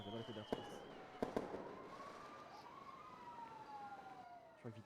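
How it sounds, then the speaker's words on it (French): Wedding-night fireworks burst in a few sharp bangs over steady crackle, with a siren-like whistling tone sweeping through the background; people can be heard in the distance. "J'attends un petit peu que les feux d'artifice se calment."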